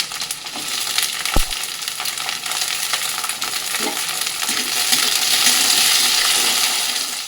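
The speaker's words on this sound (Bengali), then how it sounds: "গাজর বটবটি আর বিনস একসাথে ভাজতে দিয়েছিলাম" Carrots, flat beans and green beans fry together in oil in a wok, giving a continuous close sizzle with scattered crackles, a sharp utensil clack and light stirring, swelling slightly toward the end.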